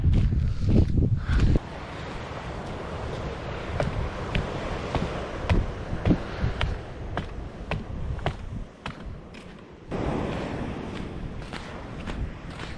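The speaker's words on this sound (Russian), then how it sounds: "А так тут в округе ветер очень сильный." Strong gusty wind at a coastal fishing spot in Whangarei District buffets the microphone in heavy low rumbling bursts, with scattered clicks and light rustling between the gusts.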